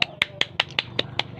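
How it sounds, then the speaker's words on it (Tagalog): Eight crisp, evenly spaced claps in a quick, steady rhythm from a class of students cheering the first group in a classroom, sounding like one coordinated patterned clap rather than scattered applause. "Masigabong palakpakan ang unang pangkat."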